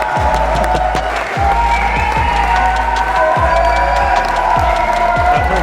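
Audience applause for Pierre Croce at a live comedy match show rolls on steadily and loudly throughout, a dense wash of clapping with cheering and tonal music running underneath.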